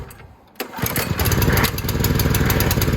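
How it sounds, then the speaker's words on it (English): A Workzone Titanium petrol pressure washer engine starts after a pull on the starter cord. There is a short rasp of the pull, then the small engine catches and runs with a loud, rapid, steady putter close by. "Good pull on the starter."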